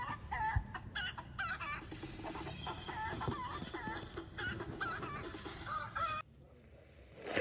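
Chickens cluck repeatedly in a busy, overlapping chorus, fairly close, with a brief quieter stretch near the end.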